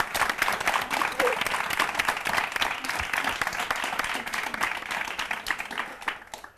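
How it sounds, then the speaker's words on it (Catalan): Sustained applause from a large TV quiz show audience, dense, even clapping that fills the whole stretch before tapering slightly at the end. "Un fort aplaudiment per ells."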